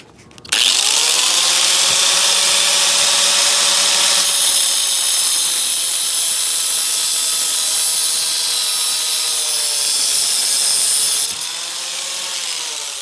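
A loud power drill with an old Harbor Freight bit whines continuously for several seconds at steady speed drilling metal on a Ford radiator core support, then winds down near the end.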